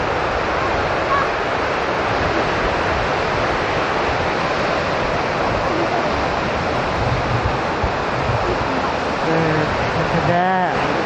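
Sea waves break on the shore at New Brighton, a steady loud wash of surf mixed with wind buffeting the microphone, and a brief voice is heard near the end.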